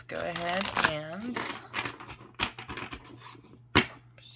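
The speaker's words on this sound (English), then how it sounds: "I can try and shuffle them this way." Riffling oracle card shuffles with papery flutters and sharp snaps, close up, with a voice speaking at the start.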